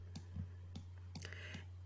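Computer keyboard keys clicking while resizing a digital paint brush, five or six quiet, sharp taps spaced irregularly over a low steady hum, with no talk.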